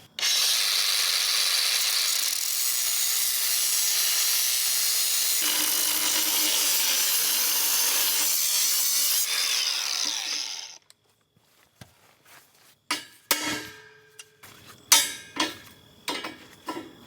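A pipe socket being cut back before sliding onto an auger: a long, steady, loud power-tool whine for about ten seconds, then a series of sharp metallic clicks, knocks and handling rattles.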